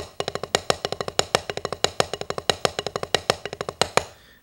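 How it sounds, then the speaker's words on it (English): A fast, even six stroke roll on a drum, rapid strokes in repeating groups with louder accented hits falling at regular intervals; solo and fairly quiet. "Now we have our six stroke roll"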